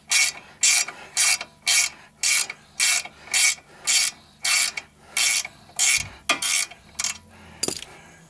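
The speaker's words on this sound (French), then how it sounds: "on démonte donc l'écrou qui est à la base de la rotule" A hand ratchet loosens the nut at the base of a car's steering ball joint, clicking in a steady run of about a dozen even, close bursts, with a few quicker strokes and a metallic clunk at the end.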